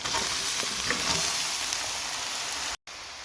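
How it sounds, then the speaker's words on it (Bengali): Garlic paste and three kinds of vegetables crackle and hiss loudly in hot oil, a dense, continuous close sizzle with faint stirring, briefly dropping out near the end. "তারপর অ্যাড করছি রসুনের পেস্ট খুব ভালো করে ভেজে নিচ্ছি এখন অ্যাড করছি সেই তিন রকমের সবজি"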